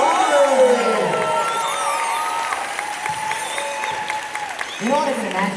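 Applause and cheering from an audience at a furry convention dance competition fill the space, loud and steady, with whoops rising near the end and a voice talking over the crowd.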